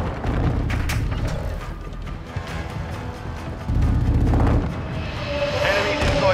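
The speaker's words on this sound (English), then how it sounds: "Friendly mortar strike inbound." Mortar strike explosions in Call of Duty: Modern Warfare II: repeated booming thuds and rumbling blasts over steady battlefield noise, with bursts swelling near the middle and end and game voices faintly underneath.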